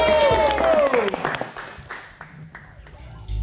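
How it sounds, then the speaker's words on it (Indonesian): Applause from the audience at a Midnight Live show in Indonesia, opening with a sliding whistle-like tone and voices, then thinning to scattered claps over roughly three seconds. "Kita berikan tepuk tangan."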